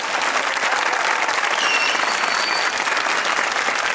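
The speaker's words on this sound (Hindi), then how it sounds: "तालियां बजाइए" Studio audience clapping on a Pakistani comedy talk show, loud, dense and continuous applause from a packed crowd with no break.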